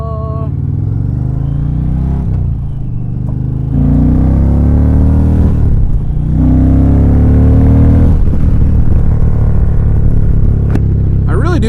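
Motorcycle engine revving loud and close, with rising and falling throttle sweeps over a deep rumbling idle and a brief clatter near the end.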